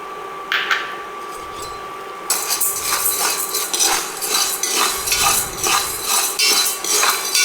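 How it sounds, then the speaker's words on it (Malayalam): Metal utensil scraping and clinking in a pan while roasting dry sago, steady repeated stirring strokes with a dry rattling texture, close and fairly loud, no voices. "ഇനി നമുക്ക് ഈ ചവ്വരിനെ നല്ലപോലെ വറുത്തെടുക്കണം"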